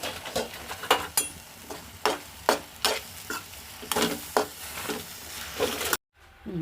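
Gongura (sorrel) leaves sizzle and fry in a pan while being stirred, with repeated loud, close scraping strokes at an irregular rhythm, then a brief drop to near silence at the end.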